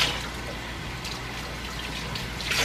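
Warm water runs steadily while hair is being washed, a close, continuous hiss and splash of flowing water with slight swells in loudness at the start and end.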